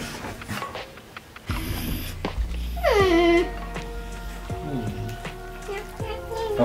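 A pet dog at home whimpers and yips in a short, rising whine, fairly close, amid quiet household background noise and light pattering.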